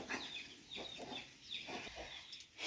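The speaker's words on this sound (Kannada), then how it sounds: "ನೋಡಿ ಕೋಳಿಗಳು ಒಂದಕ್ಕೊಂದು ಜಗಳ" Chickens squabble and cluck, a few short sharp squawks and clucks coming in bursts against a quiet outdoor background.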